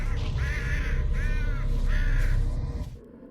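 Crows in a video game let out three loud, harsh caws in quick succession, close and clear over a low background rumble, before fading out.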